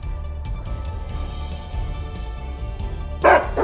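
A stray dog gives a short bark near the end over a steady low rumble of traffic or street noise, with no voices.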